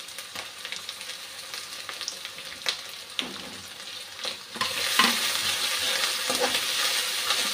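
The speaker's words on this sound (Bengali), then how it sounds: "কাঁচা লঙ্কাগুলিও দিয়ে দিচ্ছি। আদা বাটাটা দিয়ে দিচ্ছি।" Green chillies and ginger paste sizzle in a hot pan, a steady frying hiss with a few stirring scrapes, growing louder and busier partway through, close and with no voices.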